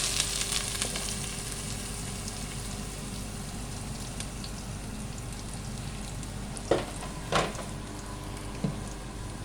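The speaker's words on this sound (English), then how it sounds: "I'm adding two red chilies, and now add onion." Onion and two red chilies sizzle steadily in a hot pan for a sambar base, a continuous frying hiss with a few louder spatters and utensil touches near the end, no talk.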